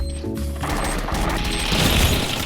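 A loud game explosion erupts and rolls into a dense, crackling roar of blasts and debris that fills the whole stretch.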